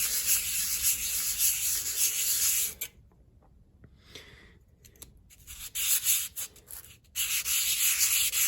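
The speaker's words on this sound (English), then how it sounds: "this is 100 grit sandpaper" A knife scale being sanded by hand on 100 grit sandpaper, with loud continuous rasping strokes close by, then a quieter pause of a few seconds with lighter scratchy rubs before the steady sanding resumes.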